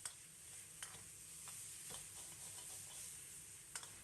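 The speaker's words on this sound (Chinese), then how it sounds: "翻炒个5、6、7、8下。" Lean pork and blanched celery stir-fried over high heat in a wok, a soft steady sizzle with light scraping and tapping strokes of the spatula, faint and close.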